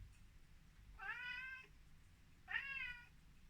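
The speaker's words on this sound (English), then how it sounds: "Hi, cat." A hungry cat meows twice indoors, each call a clear, drawn-out mew about a second long, separated by a short pause over quiet room hum.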